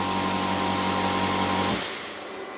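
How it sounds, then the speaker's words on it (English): The built-in air compressor of an Xtreme Plasma Cut 40 plasma cutter, plugged into a standard 13 amp supply, runs with a loud, steady mechanical hum that stops abruptly after under two seconds, leaving quieter background noise. "that's the compressor running"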